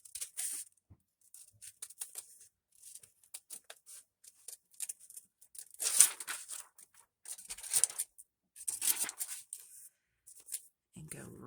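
Scissors cutting out a paper card layer for a Valentine's heart journaling card: crisp, light snips and paper rustles, close and intermittent, in irregular bursts.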